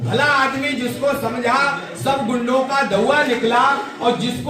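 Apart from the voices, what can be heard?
No everyday noises stand out.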